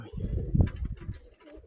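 A pigeon coos softly and close by, a low throaty burble repeated a few times, with faint background noise.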